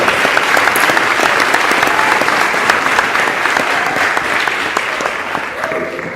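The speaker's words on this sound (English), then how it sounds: "Give it a round of applause" Steady, dense applause from a large audience at a speaking event on justice, a loud continuous wash of many hands that gradually eases toward the end.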